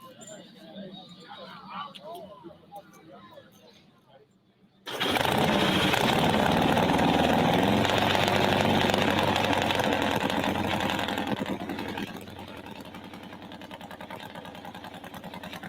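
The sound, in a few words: Nitro Harley snowmobile engine running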